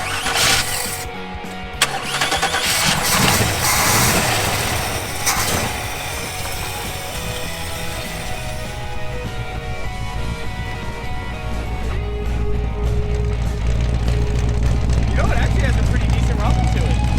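A 1956 Chevy Bel Air barn find engine turns over and catches, then settles into a loud, steady rumbling idle that carries on throughout, with people talking now and then.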